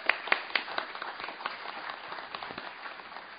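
Audience applause at a public event, a few sharp nearby claps over a softer, thinning spread of clapping across the room.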